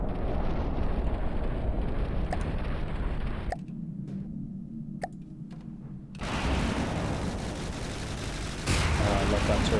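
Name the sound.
turret gunfire in the video game From The Depths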